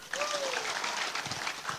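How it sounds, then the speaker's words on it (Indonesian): A congregation claps for dancers and musicians during a church dedication service, a continuous mid-level patter of hands with a faint tonal sweep and some voices mixed underneath. "Tepuk tangan dulu."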